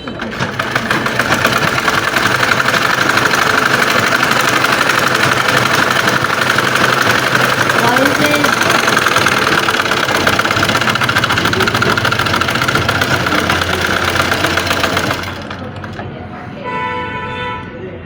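An electric sewing machine stitches the border seam of boys' pants, a loud steady whirring hum running continuously for about fifteen seconds before cutting off, leaving a quieter room tone with faint voices.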